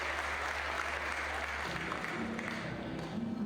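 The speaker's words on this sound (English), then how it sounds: "Big round of applause for me and that, and all of the team." Audience applause at the La Sportiva Legends Only 2018 climbing competition, a steady wash of clapping from a crowd that holds for the whole few seconds at moderate loudness.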